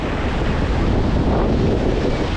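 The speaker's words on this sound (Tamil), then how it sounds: "இங்கே அடிக்குது அலை" Ocean waves surging onto the shore at Thennetty Park beach in Visakhapatnam, a broad, loud roar of surf mixed with heavy wind buffeting the microphone, steady throughout.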